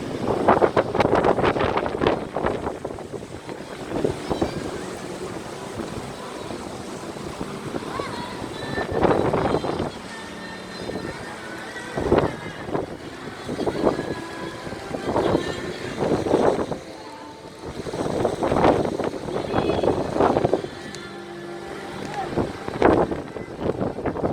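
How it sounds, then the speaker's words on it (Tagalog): Gusty wind at a sandy beach in Naic, Cavite, blowing across the microphone, rumbling and buffeting in uneven surges that rise and fall close up. "hangin"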